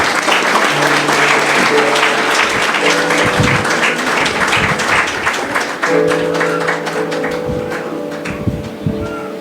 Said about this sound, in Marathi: त्यांचं आपण मनापासून टाळ्या वाजवून हार्दिक स्वागत करू.